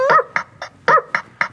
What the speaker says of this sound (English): Let the dog bark talk to you.